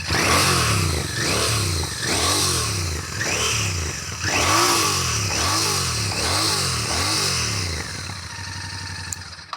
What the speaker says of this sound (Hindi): और जब थोड़ा सा हम थ्रॉटल करते हैं इसको